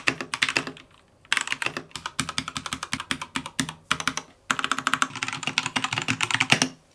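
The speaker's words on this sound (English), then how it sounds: "This is the red switch. Same sort of thing. The keys themselves actually are lighter on the red switch style than the brown switch" Typing on a mechanical keyboard with red switches, rapid close clacking keystrokes in three bursts separated by short pauses, loud and alone with no talking.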